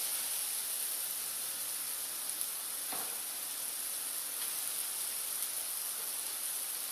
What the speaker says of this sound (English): So I'm just going to keep on frying all this.